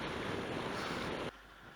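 Steady roaring wind noise buffets loudly on a boat trip near Adrasan for over a second, then drops abruptly to a quieter rush.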